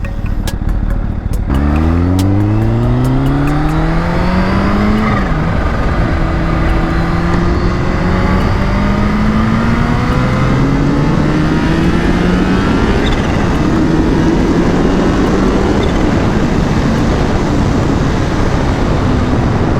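Kawasaki H2 motorcycle at full throttle with traction control switched off: a loud, close engine that climbs hard through several gear changes in rising sweeps, then holds a sustained roar.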